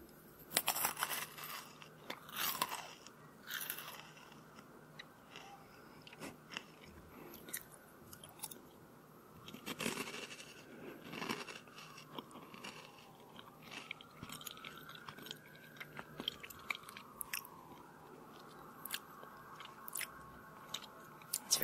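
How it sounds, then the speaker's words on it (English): Someone bites and chews a very crunchy snack up close, with repeated sharp crunches and steady chewing in a quiet room, pausing between bites. "I decided to make a video with this snack instead, since it's also very crunchy"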